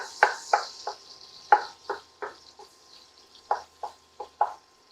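About nine sliced garlic cloves stirred in a pan for marinara sauce: a series of sharp spoon scrapes and taps in irregular rhythm over a faint, quiet sizzle.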